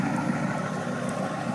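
Idling rumble from a straight-piped Ford F250 with a 6.9 IDI diesel on 2.5-inch exhaust and a turned-up injector pump, a steady low drone running throughout with no speech.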